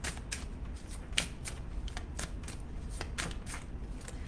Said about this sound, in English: All right, Deanna, I'll pull a card for you.